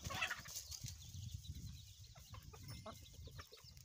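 Chickens and young chicks cluck and murmur nearby in a steady, low jumble of short notes, with a few sharper calls standing out, during cold weather.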